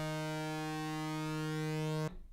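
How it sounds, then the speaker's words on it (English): Bright, buzzy synthesizer note with the filter cutoff at zero and the envelope maxed, rich in harmonics, from a lead brass patch recreating a song; one steady sustained tone that stops abruptly near the end. "Now we don't actually want our filter to sound like this."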